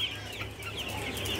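Nine-day-old broiler chicks in a cage farm give faint, overlapping chirps and soft clucks over a low steady hum.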